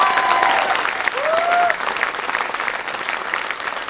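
An audience at a Hindi poetry recital breaks into loud, sustained applause that fills the clip, dense clapping with a few whistles on top.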